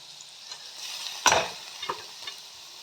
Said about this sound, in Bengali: আলু, গাজর, ক্যাপসিকাম, বিনস, এইগুলো ভাজছি।